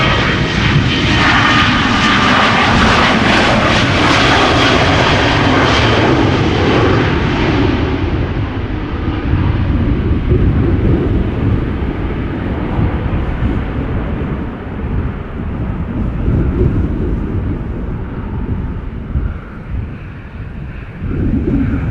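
A Norwegian Boeing 737-800 in UNICEF special livery departs Schiphol Airport with a loud jet roar that slowly fades into a deep rumble as it moves away. Wind buffets the microphone throughout.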